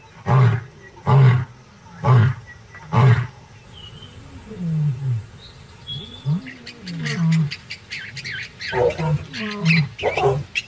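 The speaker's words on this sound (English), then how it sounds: "A lion's roar can be heard up to 8 kilometers away." A lion roars in a savanna, first with four loud, evenly spaced deep bursts, then grunting and moaning calls mixed with higher cries and another animal's sounds.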